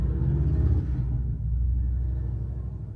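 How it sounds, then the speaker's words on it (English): A loud truck or motorcycle passes outside, a heavy low rumble that swells over the first second and then settles into a steady drone as it fades away. "there was a giant fucking noisy ass truck or motorcycle or whatever outside"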